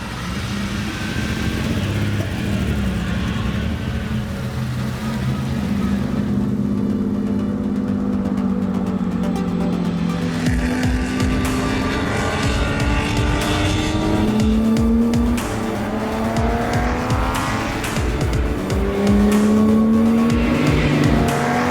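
An early-1960s Ferrari 250 GTO sports racer on skinny tires drives along country roads. Its engine roars loud and close throughout, climbing and falling in pitch through gear changes without a break.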